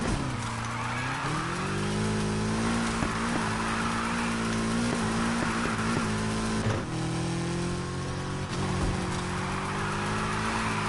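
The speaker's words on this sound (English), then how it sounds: "We can have a tighter drift right here." A car drifting in a racing video game, its engine holding a steady revving drone while the tires squeal and skid through a turn, loud and continuous throughout.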